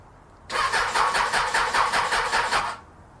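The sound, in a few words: Suzuki Bandit 600 motorcycle engine turning over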